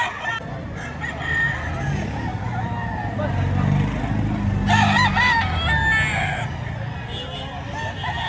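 A rooster crows at a Filipino gamefowl farm amid background clucking and faint chatter; several drawn-out crows rise in the middle and fade toward the end, fairly near and over steady low rumble.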